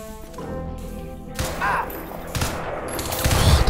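Rapid bursts of automatic gunfire and sharp impacts crackle through a Crysis 2 firefight in uneven clusters, with a voice talking over the shooting.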